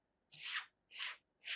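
A paint scraper drags across wet blue paint on a painting in three quiet, evenly paced rasping strokes, each a soft swish with a short pause between, heard close and alone.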